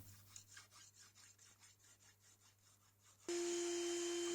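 A file crowns the frets of a vintage 1960s bass guitar in a rhythmic series of soft, quick rasping strokes, fairly faint and close, ending in a sudden loud steady tone.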